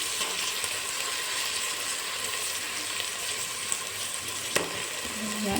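Onions and spices sauté in oil in a pan for peas pulao, a steady close sizzle and frying hiss with a brief stir or clink near the end and no talking.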